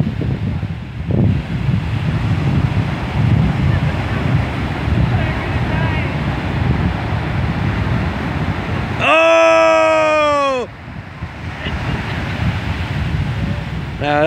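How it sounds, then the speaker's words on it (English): Wind-buffeted surf along an ocean shore, a steady broad wash with a brief loud tonal burst midway, as people take a cold plunge into the sea with voices around. "There they go, ocean plunge."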